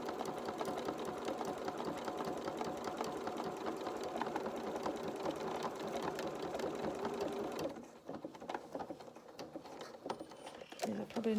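Sewing machine stitching buttonholes on a garment, a fast close mechanical chatter running steadily for several seconds, then stopping into quieter handling clicks and rustles.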